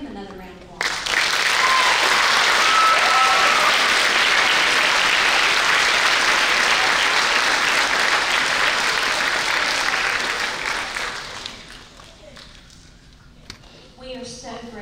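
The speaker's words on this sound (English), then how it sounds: "Give him another round of applause." Audience applause after a junior high school spring choir concert, a loud, dense burst of clapping that starts abruptly, holds for about ten seconds, then fades out as a voice begins speaking.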